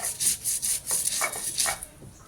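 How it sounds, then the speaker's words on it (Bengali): Mustard and poppy seed paste is ground by hand with dried red chillies, making a steady back-and-forth scraping and rubbing rhythm, close up and fairly loud, with no voices. "তো আমার মশলাটা আমি বেটে নিচ্ছি, আর তার সঙ্গে শুকনো লঙ্কাও আমি দিয়ে দিলাম।"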